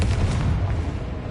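A blasting curse explosion in a fantasy spell-casting game, a heavy, rumbling boom that fills the low end and rolls on steadily without a break, loud and close with no speech over it.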